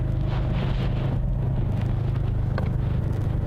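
Drift car engine droning steadily as it circles a track, a continuous loud low rumble with wind buffeting and faint crackles layered on top, no talking heard.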